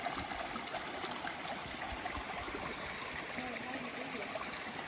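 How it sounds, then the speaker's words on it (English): Creek water flows steadily at a small crossing on a wilderness hiking trail in Linville Gorge, a continuous broadband rushing and trickling close by, with no talking. "Come to a little creek crossing here."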